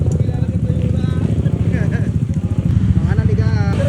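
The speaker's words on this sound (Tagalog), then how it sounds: "may dumating na isang NMAX na kung saan nakatagilid na yung kanyang tambutso." A Yamaha NMAX scooter with a bent exhaust rolls up at an endurance riding event, its engine puttering loudly and steadily up close, while people talk in the background.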